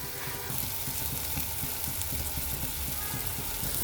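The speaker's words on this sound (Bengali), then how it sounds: "এখন চিংড়ি মাছ যোগ করে দিচ্ছি" Prawns hit a pan of frying onion and garlic, setting off a loud, dense, close sizzle that holds steady throughout with faint stirring underneath.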